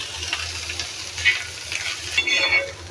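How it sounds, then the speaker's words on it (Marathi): Onion, ginger, green chili and garlic sizzle in oil in a pan for a Konkani-style black gram curry, with a steady crackling hiss and occasional scraping stirs. No voices are heard. "आलं, मिरची आणि लसूण हे पण ह्याच्यामध्येच आपल्याला भाजून घ्यायचं आहे"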